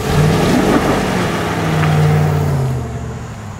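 A 2021 RAM 1500 Classic full-size pickup with a V8 and dual exhaust accelerates hard, a loud, steady engine drone that holds for a few seconds before easing off, with no talking.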